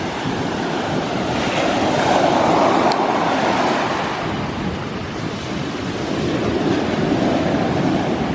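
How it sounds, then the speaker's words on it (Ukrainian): Stormy sea waves crash and surge onto the shore in a continuous roar, with heavy wind buffeting the microphone throughout. "потім піднімаються такі хвилі, що просто воно ну, з головою накриють там"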